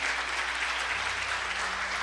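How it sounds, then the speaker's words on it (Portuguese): Steady applause from a church congregation, a continuous wash of clapping with no voices, holding at an even level throughout. "Dá uma salva de palmas bem forte para Jesus, gente."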